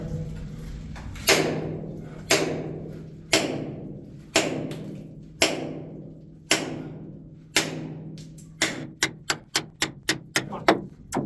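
A hammer knocking rock off an underground mine wall by a fault, sharp loud thuds spaced about a second apart, then a quick burst of faster strikes near the end, each ringing briefly in the enclosed space.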